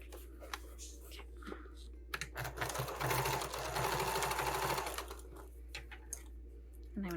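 A sewing machine stitching along a line on fabric, a brief close whirring run of about two seconds between softer clicks and handling noises, with a voice speaking faintly around it.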